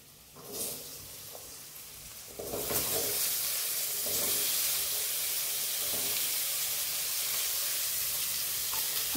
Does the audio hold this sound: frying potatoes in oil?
yes